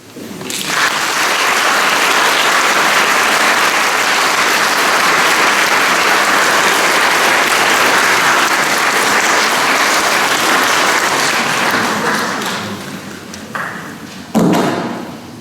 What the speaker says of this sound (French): Et je propose qu'on les applaudisse.